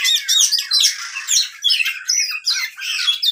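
An oriental magpie-robin calls close by with harsh squawks mixed into fast chattering phrases, loud and continuous over a few seconds, with no voices or background noise.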